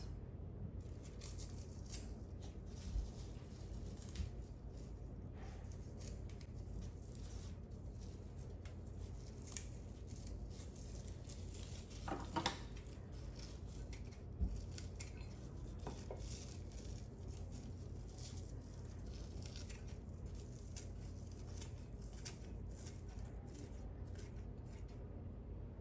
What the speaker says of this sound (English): Scissors work best for this.